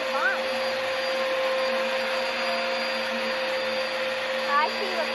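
Bissell PowerForce Helix vacuum cleaner running with a clog inside, a steady whining motor tone and airflow hiss held at moderate level throughout, with faint brief talk over it.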